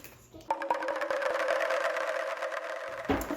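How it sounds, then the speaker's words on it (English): A kitchen stand mixer whirs steadily for about two and a half seconds with a bright motor hum, starting and stopping abruptly with small clicks, close and moderately loud. "Everything's going into our stand mixer."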